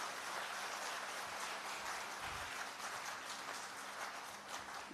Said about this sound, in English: So can we give a round of applause?